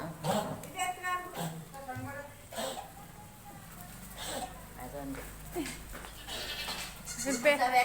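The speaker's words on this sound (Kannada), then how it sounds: "ಮೇಕೆ" Goats bleat repeatedly at a rural home, with wavering calls rising one after another at close range while people talk over and between them.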